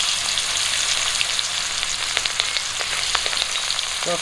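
Pieces of pangas fish fry in oil with a dense, steady sizzle, small crackles and pops scattered through the close, even frying noise.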